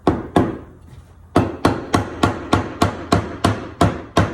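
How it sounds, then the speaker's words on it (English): A metal hammer taps a wooden dowel flush in a steady series of sharp taps, about a dozen blows, close and loud with a short pause early on. "Take a hammer"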